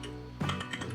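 A brief burst of computer keyboard keystrokes while a file path is entered in JavaScript code, a few quick clicks close up.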